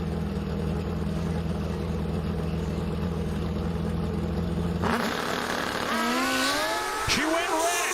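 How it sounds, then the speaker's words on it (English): A high-revving Suzuki Pro Stock drag racing motorcycle at Bristol Dragway holds a loud, steady high idle, then sharply revs up and down in quick climbing bursts, with an announcer talking over it. "The high-revving Suzuki's now in pre-stage."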